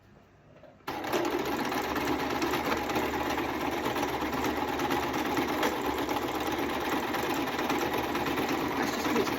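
A sewing machine stitches through wadding, starting abruptly after a brief quiet moment and then running in a steady, loud, fast whirring rattle close by.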